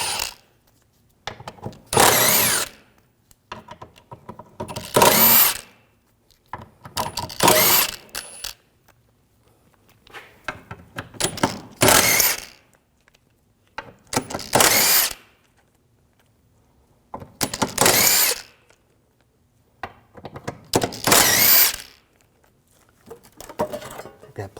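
A power tool with a T50 socket backing screws out of an underbody plate on a 2007-2013 BMW 328i, about nine loud whirring, ratcheting bursts separated by short quiet gaps.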